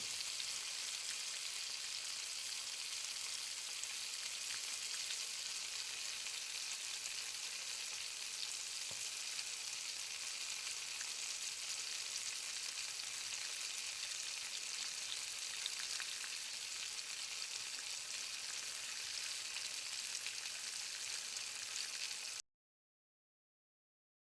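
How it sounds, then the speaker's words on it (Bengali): Whole bay leaf and cumin seeds sizzle steadily in hot mustard oil left in a kadai after frying prawns, a continuous close crackling hiss lasting about twenty seconds with no talk. "মাছগুলো ভাজা হয়ে যাওয়ার পরে সেই তেলের মধ্যেই আমি দিয়ে দিয়েছি একটা গোটা তেজপাতা একটু ছিঁড়ে নিয়ে আর দিয়েছি এক স্পুন গোটা জিরে"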